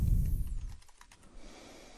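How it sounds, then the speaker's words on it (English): Someone presses the E key on a computer keyboard, giving a few quiet, close plastic clicks after a low rumble fades, with no speech. "we're hitting the E key on the keyboard"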